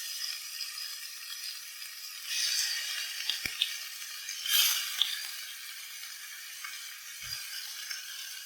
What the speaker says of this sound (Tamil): இது கூடவே கழுவி வச்சிருக்க சிக்கனும் ஆட் பண்றேன்.